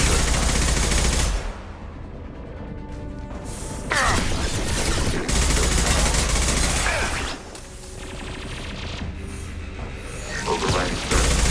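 An automated turret in the video game Mass Effect 2 fires in loud, dense bursts, with mechanical whirs and clanks during the brief lulls between them.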